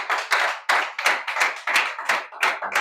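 Church congregation clapping together in rhythmic bursts, steady and close, repeating every half second or so with no voices over it.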